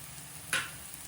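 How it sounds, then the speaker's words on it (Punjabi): Chopped onions, garlic and ginger fry in a pan, giving one brief, sharp sizzle over a low background hiss. "ਪਿਆਜ਼ਾਂ ਦੇ ਨਾਲ ਹੀ ਅਸੀਂ ਇਹਨਾਂ ਨੂੰ ਵੀ ਭੁੰਨਣਾ ਹੈ ਤਾਂ ਜੋ ਇਹ ਵੀ ਚੰਗੀ ਤਰ੍ਹਾਂ ਭੁੱਜ ਜਾਣ"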